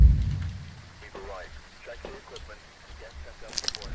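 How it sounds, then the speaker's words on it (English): Blood Rain weather in the video game Phasmophobia patters steadily as a continuous rain hiss while someone talks over it. "Oh, it's Blood Rain."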